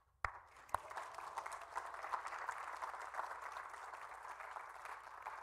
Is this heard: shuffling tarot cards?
no